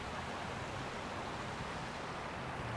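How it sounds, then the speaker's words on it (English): Waterfall at a historic site near Fort Stockton, Texas, pouring steadily as a constant, even rush of broadband water noise, moderately faint, with no voices. "Here's another look at the waterfall."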